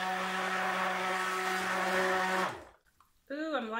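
A stick blender whirs steadily while mixing pink soap batter, a loud sustained hum that cuts off abruptly, followed by a brief pause and then a person speaking.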